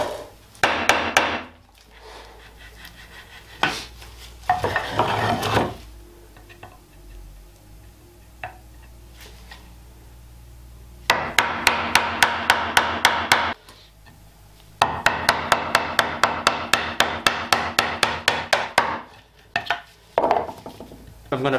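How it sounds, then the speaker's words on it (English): Square hole being cut into wood for the foot pedal of a shaving horse; bursts of rapid, rhythmic chopping or chiseling blows at close range, separated by pauses and a few single knocks. "now I'm going to cut out the square for the foot pedal"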